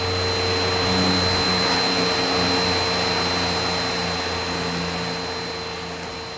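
A Bissell PowerForce vacuum cleaner with a clogged, no-suction fault runs steadily close by, a loud continuous motor whine with a constant hum that eases slightly toward the end, with no voices.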